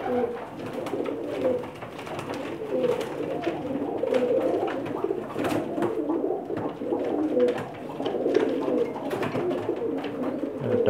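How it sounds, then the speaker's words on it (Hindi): Batera pigeons cooing continuously in a loft, several birds giving soft, overlapping throaty coos close by, with faint background noise and no clear talk. "ये बटेरा कबूतर है।"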